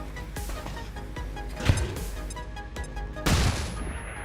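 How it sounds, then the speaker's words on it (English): A flashbang grenade goes off in XCOM 2, one sharp burst midway and a heavier blast near the end, set among dense booming game battle noise with no talk. "Yeah, I think we need this flashbang."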